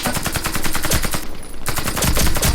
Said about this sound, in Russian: Я в него стреляю